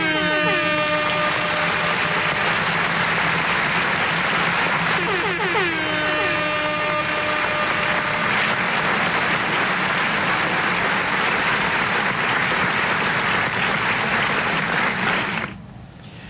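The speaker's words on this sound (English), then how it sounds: "give him a round of applause, everyone" Crowd applause at Carina Speedway for a nostalgia sedan driver, a dense continuous clapping wash joined by the whine of a race car engine passing, while an announcer talks over the PA.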